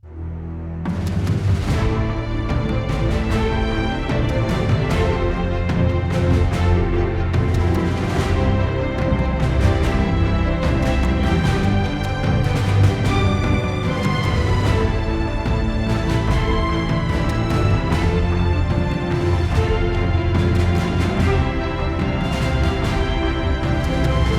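Lush orchestral strings from the Berlin Strings sample library play a continuous romantic passage, with short bowed accents and sustained chords filling the sound at a strong, even level.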